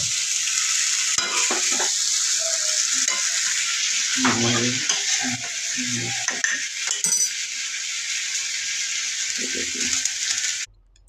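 Tomatoes fry in a pan for chow mein, giving a constant bright sizzle with clinks and scrapes of stirring utensils against the pan, and a voice speaks briefly in the middle before the sound cuts off abruptly near the end.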